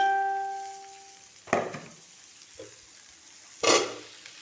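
Roti frying in oil in a pan; a faint tone fades out first, then two short sizzling bursts a couple of seconds apart, quiet and close.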